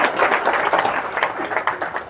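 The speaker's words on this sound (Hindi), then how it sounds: "एक बार ताली बजाओ।" An audience at a motivational business seminar claps together in a dense, steady wash of applause, fairly close and continuous for a couple of seconds with no speech over it.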